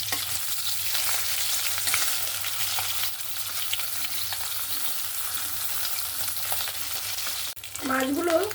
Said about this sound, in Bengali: উল্টো সাইডে উল্টে নেব।